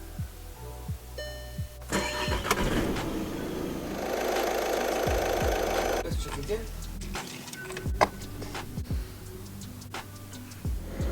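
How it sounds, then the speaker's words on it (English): A diesel Audi A1/A3 1.6 or 2.0 TDI engine cranks and starts after an oil and filter change, then settles into a ticking, clattering idle with sharp knocks, close by and fairly loud. "We will start the car"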